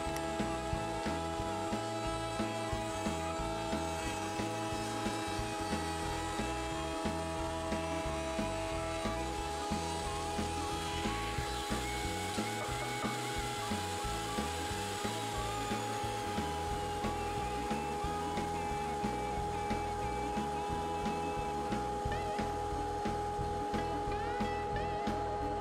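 A router table cuts a groove in a wooden board with a 1/4-inch bit set just over half the board's height, giving a loud, sustained whining motor drone with a shifting cutting tone as the wood feeds through.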